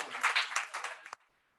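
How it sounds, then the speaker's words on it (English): An audience claps and cheers for Ian at a youth gathering: a dense burst of applause for about a second, tapering quickly into near silence. "Please clap and cheer for Ian."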